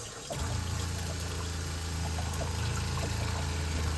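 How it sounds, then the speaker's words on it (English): An electric water pump in a camper van hums steadily after a brief quiet start, with water rushing and pouring throughout in a loud, constant drone. "Now I'm starting the water. And now the pump starts."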